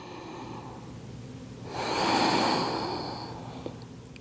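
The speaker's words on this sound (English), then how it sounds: "If you can resonate your breath, you'll be able to lengthen and extend the breath a little bit more." Deep, resonant yoga breath during a pigeon pose practice, one long, slow, breathy exhale that swells and fades, close and fairly quiet with no talking.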